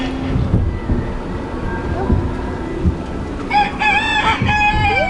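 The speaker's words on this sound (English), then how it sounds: "Look at the rooster." A rooster crows loudly on an American farm, its harmonic call rising late over steady wind and background murmur, with softer clucking from fowl nearby.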